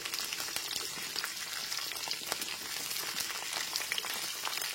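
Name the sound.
cauliflower pieces being stirred while frying in a pan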